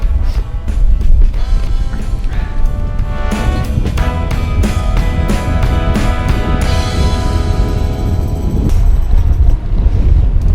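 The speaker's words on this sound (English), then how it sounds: "It is just so windy along here." Loud wind buffets the microphone in a constant roar, with bicycle gear clicking and rattling over it, on a long ride in Wales.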